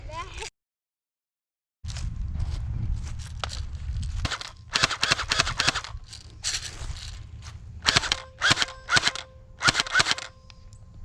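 Airsoft guns fire during an outdoor skirmish: sharp, snappy shots, some single and some in rapid clusters, fairly close, after a short silent gap at the start.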